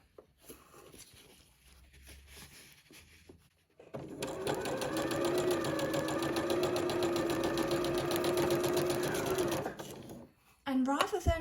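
Fabric strips are stitched into scrappy tape on a sewing machine that runs in one long, close, steady whirring burst of several seconds, preceded and followed by soft handling of fabric.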